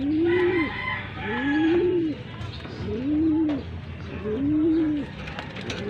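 A hen with her newly hatched chicks calls in four evenly spaced, drawn-out rising and falling vocalizations, close and clear over a low background murmur.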